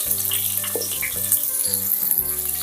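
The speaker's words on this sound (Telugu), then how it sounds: "ఆయిల్ వేడెక్కింది. నేను మసాలా దినుసులు వేస్తున్నాను." Onions, cashews and whole spices frying in hot oil for potato rice, a steady close sizzle and crackle running throughout with a faint trickle of water in the background.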